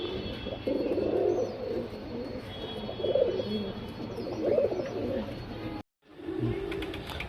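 Pigeons from an old lineage coo in low, repeated rolling calls close by, with a steady background hum and a brief dropout near the end.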